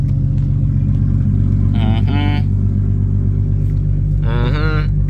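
The V8 engine of a Chevrolet Camaro idles with a steady, deep rumble from inside the car. Voices speak over it twice.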